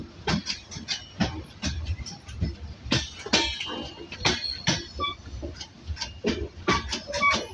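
A train rolling slowly around a sharp curve on a bypass line, with repeated clanks and metallic clinks from the wheels and cars, plus faint squeals and a whistle-like tone, heard fairly close and steady throughout.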